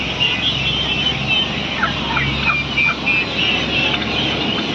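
Country chickens call in a hen shed, a busy run of repeated warbling clucks close by over a constant background hum.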